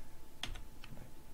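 A few sharp keystrokes on a computer keyboard during 3D-model file editing, close and clear, with a short cluster of clicks and then a lone tap against a quiet room.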